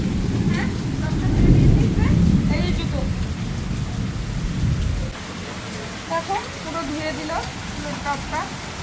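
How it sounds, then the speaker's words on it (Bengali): Steady rain falls with a deep rumble of thunder rolling through the first half, then softer rain with scattered drips and patters. "বৃষ্টি পড়ছে"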